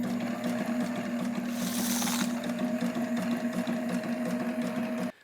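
Sailrite LSZ-1 heavy-duty sewing machine stitching thin 30 denier ripstop fabric, a loud steady mechanical hum with rapid needle chatter running continuously for about five seconds before stopping abruptly.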